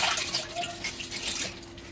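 Dry pasta going into a pot of water for boiling, a continuous watery rush and splash, close and moderately loud throughout.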